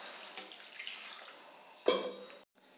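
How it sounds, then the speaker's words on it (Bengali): Water goes into a pot of boiled potatoes for a Bengali lentil curry: a faint hiss, then a sudden louder splash and gush of poured water that stops abruptly, close and quiet, with no voices. "দিয়ে দেব জল"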